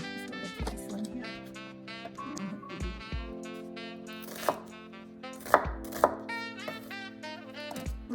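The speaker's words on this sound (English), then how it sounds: "Food processor." A food processor runs in short pulses, chopping onions, garlic and fresh oregano with lemon and olive oil; a whirring motor starts and stops several times, loud and close.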